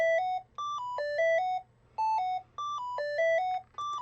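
NES-style chiptune melody played in Beepbox, bright square-wave notes in a bouncy repeating phrase with brief gaps between bars, over a low steady drone.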